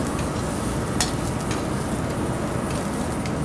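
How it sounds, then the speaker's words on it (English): Vegetables charring in a hot pan for a keta salmon dish, giving a continuous dense sizzle with occasional faint clicks of stirring or utensils, close and steady, with no voices. "our veggies are starting to char up a little bit, which is perfect"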